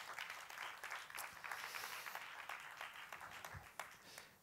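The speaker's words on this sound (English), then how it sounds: "why don't you give yourselves a round of applause?" Applause from an audience at a talk on open source hardware, a steady wash of clapping at moderate level running throughout with no voices over it.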